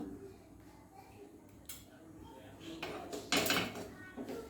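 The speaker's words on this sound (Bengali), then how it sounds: "গরম তাওয়া আছে, গরম তাওয়া আছে, এই তাওয়া এর মধ্যে বসাই দিচ্ছি" A hot iron tawa griddle is set down over a pan of eggless bun bread dough, giving a short, sharp metallic clank near the end. Softer scraping and handling of cookware comes before it, over a low, steady background.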